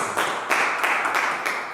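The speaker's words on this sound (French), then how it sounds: "On applaudit pour notre Dieu, pour notre place." Church congregation applauding during worship, a steady dense wash of many hands clapping at a moderate distance, sustained throughout without speech over it.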